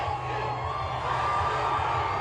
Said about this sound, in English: Oh, the crowd is going crazy.